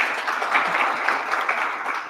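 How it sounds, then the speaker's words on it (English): Audience applause after a talk at a radio and climate change thought leadership session, steady dense clapping at moderate loudness throughout with no speech over it. "Another round of applause,"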